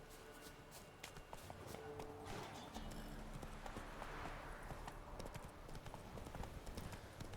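Rhythmic clip-clop of Roach the horse's hooves approaching in The Witcher 3, steady and fairly close over a dense in-game ambient bed, with a faint voice in the mix.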